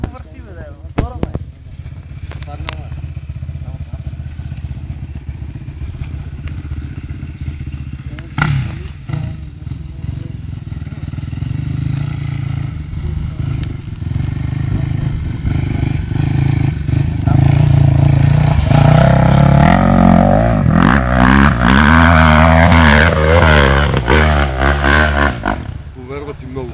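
An off-road motorcycle engine revs and strains continuously over rough ground at a mine near Vratsa, growing louder and harsher toward the end, with voices talking over it.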